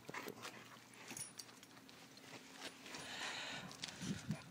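Dogs wrestling over a ball, with scuffling, growly whimpers and short yips running continuously at close range, a few louder thumps near the end.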